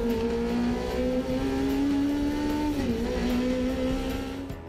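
A race car loud and close, engine climbing and dropping through gear changes as it accelerates through turns at around 150 mph, with a steady roar and a dip near the corner.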